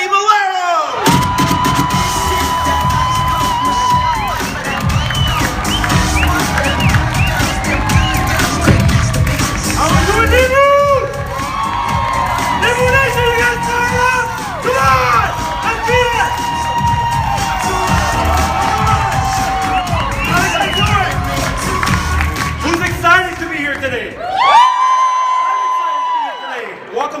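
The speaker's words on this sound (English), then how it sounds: "would you please join me in giving a huge Limu Nation round of applause to 200K Freddy Melero!" A large audience at a network marketing mindset training event cheers, whoops and shouts loudly and continuously, with clapping mixed in, before the crowd noise cuts off abruptly near the end.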